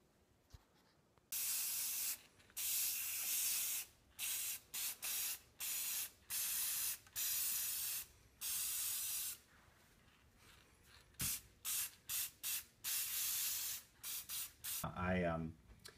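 Bursts of aerosol gloss clear coat sprayed onto painted toy bullets, a series of close hissing blasts, some long and steady, others short and rapid, with brief pauses between them.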